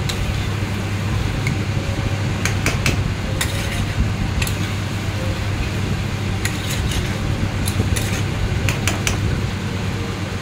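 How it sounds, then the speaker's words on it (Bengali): Chicken being stirred in a cooking pan with spices, a steady sizzling hiss and fan-like hum throughout, broken by scattered sharp clicks and scrapes of a utensil against the pan. "ভালো করে এপার ওপার নাড়িয়ে চাড়িয়ে সুন্দর করে"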